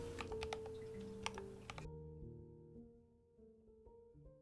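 Keys clatter in a quick, crisp burst on an offset-layout computer keyboard, heard up close, before giving way to a soft sustained tonal hum.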